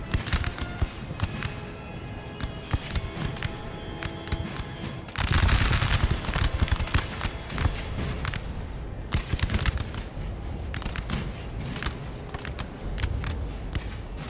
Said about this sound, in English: The voltigeurs should probably start firing.